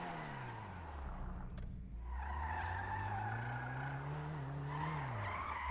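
A small car in GTA roleplay drives with a droning engine whose pitch climbs and falls, tires squealing and skidding, heard alone without talk.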